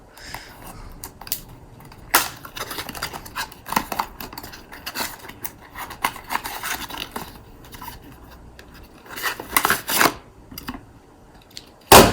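Opening a LEGO Spike Prime box brings irregular close rustling, scraping and tearing of cardboard and plastic, with a few sharp louder rips and knocks toward the end.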